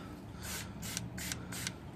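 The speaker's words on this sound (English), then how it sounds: "What I'm going to do is I'm going to spray in here as well to prevent it from really going bad on us." WD-40 sprayed into the brake line fitting of a GY6 scooter with a HOCA Dragon brake, heard as four short, crisp, close hissing bursts at an even pace.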